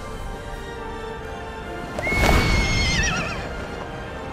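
Horse in Kingdom Hearts 3 lets out a loud, drawn-out neigh that wavers and trails off, with hoofbeats and a crashing burst beneath it, close and prominent.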